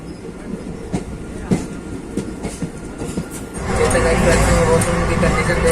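The Chetak Express, running from Udaipur to Delhi, pulls out of a station. Wheels knock unevenly over rail joints at first, then a louder, continuous rolling rumble builds as the train gathers speed.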